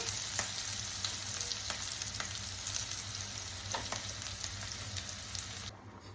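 Pasta roasting in a pan gives a steady, close sizzle and crackle with occasional sharp pops and light stirring, continuing unbroken without speech.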